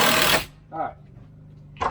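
A power drill drives a screw while a treehouse is built in the trees, giving two brief whirring bursts after a loud rustle, close by and separated by quiet gaps.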